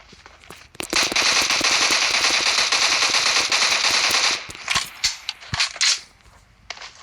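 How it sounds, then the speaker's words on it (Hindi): An M16 rifle in the BGMI mobile game fires with no attachments, a dense burst of sharp crackling shots lasting several seconds, then a few separate louder single taps. "ये था M16 का फायरिंग"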